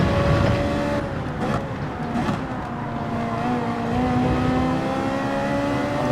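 Race car engine in Gran Turismo 7, held at a steady high drone with rising harmonic whine as it accelerates under throttle in a daily online race, loud and continuous with no talking.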